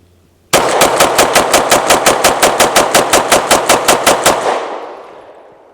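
A Tisas PX 9 Duty Comp pistol fires a fast, even string of about twenty loud, close shots in roughly four and a half seconds, then the echo fades out.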